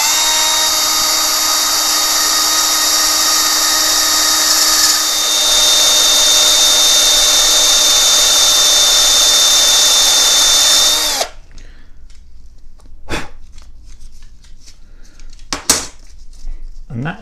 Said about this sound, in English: we are going to cut a chamfer into the bottom of this shell casing or the lip